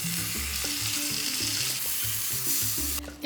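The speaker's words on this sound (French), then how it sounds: "Et maintenant, on va faire cuire le halloumi" Slices of halloumi fry in a pan with a steady, loud sizzle, while faint tonal background sounds drift underneath and no one speaks.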